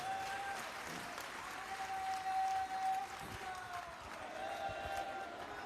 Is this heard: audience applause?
yes